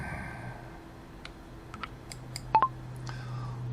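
Typing on a tiny computer keyboard, a few sparse, quiet key clicks scattered over a faint steady hum, with a brief close pair of sharper clicks near the end and no talking.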